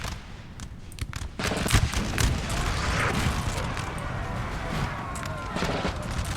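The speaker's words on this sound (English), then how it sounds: "Artillery is just ripping through this Russian infantry, which is really good to see." Artillery fire on a Napoleonic battlefield in Napoleon Total War, the 1813 Battle of Sehested, with repeated cannon booms and crackling volleys rolling through a dense, continuous din of battle.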